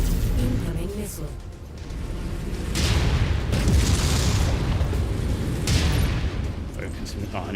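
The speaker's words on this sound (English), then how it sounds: "Incoming missile." Missiles strike and explode in MechWarrior 5: Mercenaries, deep booms and rumbling bursts rolling through loud combat noise with a voice speaking over it.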